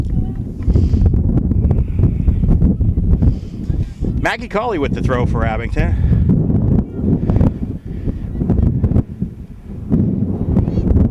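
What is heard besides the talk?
wind howling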